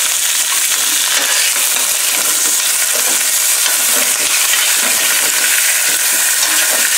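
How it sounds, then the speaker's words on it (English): Beef stew meat browns in oil in a pot for beef barley soup, filling the space with a loud, steady, close-up sizzle and crackle that never lets up, with faint stirring scrapes and no talking. "after we brown the meat"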